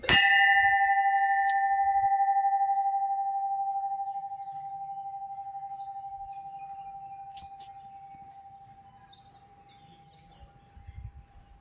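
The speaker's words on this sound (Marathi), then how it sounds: "घंटा वाजवला आणि जवळजवळ बारा ते तेरा सेकंद मित्रांनो घंट्याचा आवाज मंदिराच्या आवारात घुमत होता" A single temple bell strike rings out loud and clear in the temple courtyard, its pure tone lingering and slowly fading over twelve to thirteen seconds, with faint bird chirps in the background.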